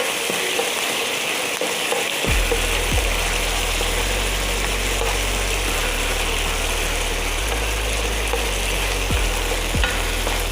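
Curry paste with a splash of water stir-fried for a bamboo shoot and fish ball dish, a loud steady sizzle with sharp scrapes of a spatula against the pan and a low hum running underneath, no talking.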